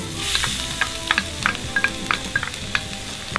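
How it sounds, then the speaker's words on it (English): Lots of garlic frying in oil in a pan until nearly crispy, a close, steady sizzle broken by sharp crackling pops scattered throughout. "So now that our garlic is so well cooked and is nearly crispy"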